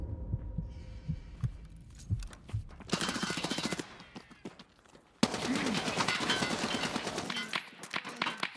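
Bursts of rapid automatic gunfire from a video game come in two long sustained strings with a short gap between them, along with scattered single shots and quieter game sounds.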